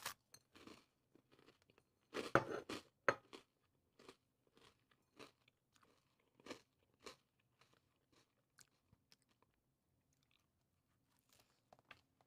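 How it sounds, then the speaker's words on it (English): Crisp crunching bites and chewing of a crunchy frosted pastry with a hard coating, close and fairly quiet, irregular bursts clustered early then thinning out into sparse small crackles. "It is very hard to eat on camera. It's very crunchy."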